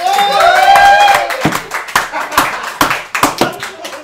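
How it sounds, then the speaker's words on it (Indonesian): Audience claps hands on a late-night comedy talk show, starting under a host's voice and tonal sound, then breaking into sharp, uneven individual claps that thin out. "Tepuk tangan"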